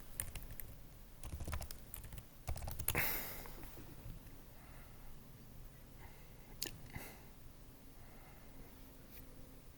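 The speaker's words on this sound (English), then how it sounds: "let me type in Khmer" Fingers type on a computer keyboard in a quiet room, bursts of light clicking keystrokes with a louder clack early on, then sparser taps.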